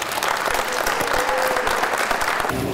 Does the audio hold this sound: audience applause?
yes